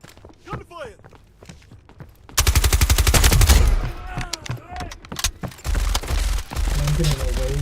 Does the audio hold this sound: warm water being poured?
no